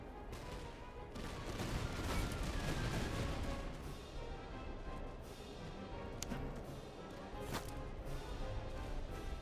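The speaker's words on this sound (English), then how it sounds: "That artillery is really messing up my day right now." Artillery fire in the Napoleonic-era video game Master of Command, a steady rumbling barrage with scattered sharp cracks and booms, moderately distant and continuous, with no talk.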